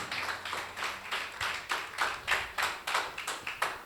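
A church congregation claps in a steady rhythm during a Spanish-language service, roughly a dozen close, even handclaps filling the few seconds with no one speaking.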